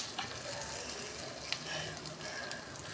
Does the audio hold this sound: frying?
yes